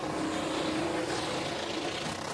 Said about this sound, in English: That sound is the rev limiter too